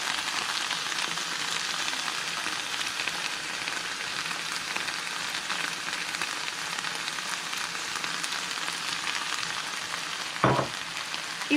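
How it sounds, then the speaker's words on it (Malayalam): Coriander paste of coriander leaves, green chilli, ginger and garlic frying with onions for chicken biryani, making a continuous even sizzle throughout with a brief clatter of stirring near the end. "ഇത് സവാളയുമായി നല്ലോണം ചേർന്ന് നല്ല ഗോൾഡൻ കളറായിട്ട് ഫ്രൈ ആയിട്ട് വരണം"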